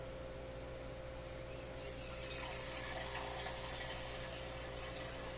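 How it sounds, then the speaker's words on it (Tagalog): Tap water runs into a cooking pot in a home kitchen, a steady faint rushing splash with a low hum underneath, growing slightly fuller partway through. "lalagyan lang po natin to ng tubig"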